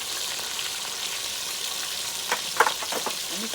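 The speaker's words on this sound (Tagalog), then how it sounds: "Dito kami sa labas ng bahay nagpiprito." Tilapia fish frying in hot oil outdoors beside a house, a faint steady sizzle with a few sharp pops and crackles of spattering oil near the end.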